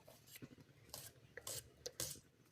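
An onion finely chopped with a knife on a board in a home kitchen, a handful of sharp scattered cuts and taps with brief gaps between them, close and fairly quiet, no one speaking.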